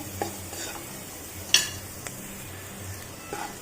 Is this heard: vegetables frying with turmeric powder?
yes